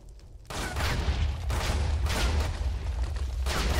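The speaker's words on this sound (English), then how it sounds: "Great shotgun. It helped me a lot." Shotgun firing in a Minecraft firefighter challenge: after a short quieter lead-in, loud booming blasts follow one another in heavy, roughly evenly spaced bursts over a continuous rumble.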